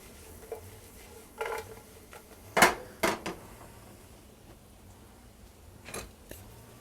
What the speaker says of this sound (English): put my sliced mushrooms in there